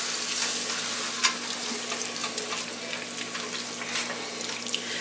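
Water is stirred into ground beef in a frying pan, giving a steady, close sizzle under faint clinks and sloshing scrapes, with no talk.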